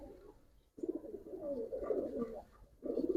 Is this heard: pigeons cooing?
yes